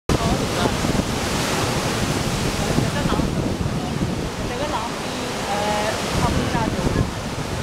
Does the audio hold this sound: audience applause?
no